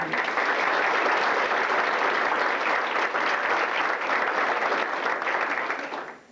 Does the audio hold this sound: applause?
yes